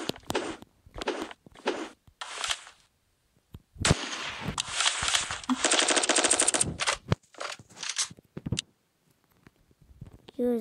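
Gunfire in a cops and robbers video game: scattered single shots, then a long rapid automatic burst with more shots after, loud and close with brief silent gaps between.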